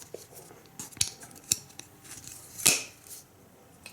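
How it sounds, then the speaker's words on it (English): Cold Steel Counter Point XL folding knife with a triad lock being worked, giving a few sharp metallic clicks and snaps scattered over a few seconds, close and fairly quiet, without talk. "push it way freaking down to disengage these triad locks on these XL sized folders"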